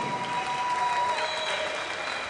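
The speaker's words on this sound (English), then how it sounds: "How about a big round of applause for these boxers?" A crowd at an armed forces boxing event applauds the boxers after a fight, a dense, even wash of clapping and faint cheering that carries through the whole short stretch.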